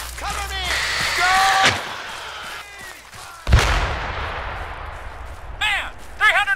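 A single sharp, loud gunshot cracks out midway through shouted voices in a battle at Taipolo, Summa, with a few more brief shouts and background noise around it.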